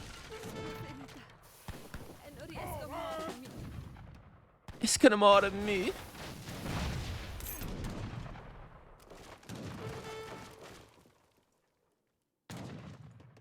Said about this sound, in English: He's got another Imperial Galilean mortar